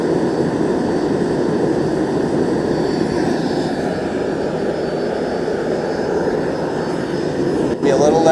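A propane forge burner on an Apollo forge build roars loudly and continuously, a dense, rushing blast of flame with no pauses.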